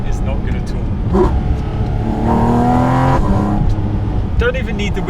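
Porsche GT4 RS engine revving with its carbon airbox intake snorting close behind the cabin, a steady loud drone that swells in pitch through the middle, with a voice talking over it.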